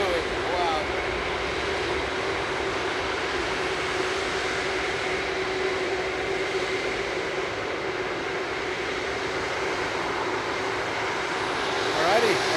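A jet airliner that has just been de-iced rumbles at Frankfurt Airport on a winter morning, its engines giving a steady, broad roar heard from a moderate distance throughout.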